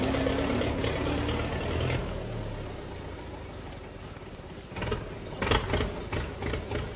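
A tractor engine runs continuously with a low, rumbling drone that grows rougher and louder toward the end, with no talking.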